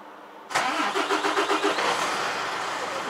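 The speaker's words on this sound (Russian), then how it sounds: "Включить двигатель" Silence, then a Mercedes Actros truck engine cranks with rapid pulsing and catches, settling into a steady, loud idle close by.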